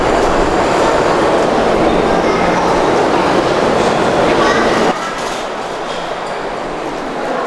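A subway train rumbles loudly through Shanghai South Railway Station, a dense steady roar of wheels and track noise that drops off sharply partway through as the train slows or moves away.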